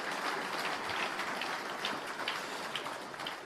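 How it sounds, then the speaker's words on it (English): Audience applause at an innovation awards ceremony, a dense, steady wash of many hands clapping that holds at an even level throughout, with no speech over it. "How about a round of applause for SPS Automation?"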